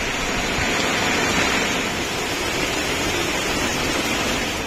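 Torrential storm rain with wind keeps up a thick, even wash of hissing noise, loud and near, with no voices over it.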